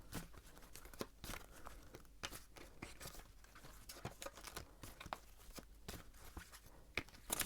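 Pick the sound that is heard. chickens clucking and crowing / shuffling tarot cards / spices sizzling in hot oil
shuffling tarot cards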